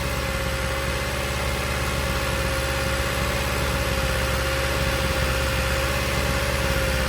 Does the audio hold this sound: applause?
no